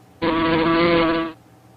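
A single bee buzzes in one steady, loud, close drone lasting about a second, then cuts off abruptly into quiet.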